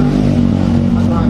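Suzuki Satria 2T two-stroke motorcycle engine running steadily with a dense, buzzing low drone, loud and close, with workshop voices murmuring underneath.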